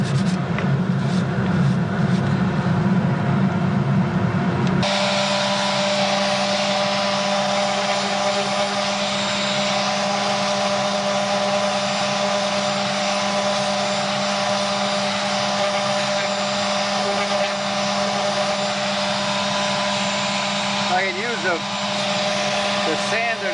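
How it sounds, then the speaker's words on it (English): An orbital sander rough-shaping wood, a loud, steady, close motor whir with a gritty abrasive hiss that starts abruptly after a few seconds of a different rougher buzz and then holds constant. "The sander to get some of this rough shaping done too. The orbital sander we got for Christmas."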